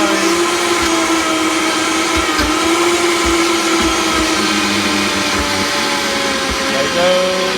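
A Vitamix blender runs continuously, whirring loudly and steadily while blending coffee ice cream, its motor pitch wavering slightly as the thick mixture churns.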